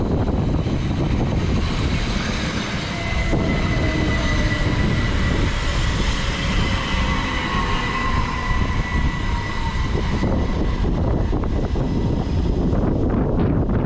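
A Class 377 electric multiple unit, number 377309, standing at a station platform in Kent on a Southern service, its steady motor and compressor hum with a faint rising whine, continuous and fairly close, with no voices.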